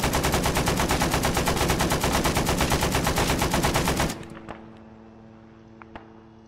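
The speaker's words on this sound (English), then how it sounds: "I hear shots coming, but I can't tell where they're from." Rapid, sustained automatic gunfire in a video game rattles loud and close for about four seconds, then stops abruptly. A few faint scattered shots and clicks follow.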